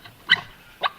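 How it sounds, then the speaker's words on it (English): Two short, sharp barks from a dog, evenly spaced about half a second apart and fairly close, with nothing else in the background. "Sounded like a dog."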